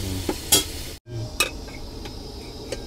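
Mushrooms being stirred and lightly fried in oil in a pan for a mushroom curry, with a soft steady sizzle broken by a few scraping stirs of a utensil, close by and with no talk.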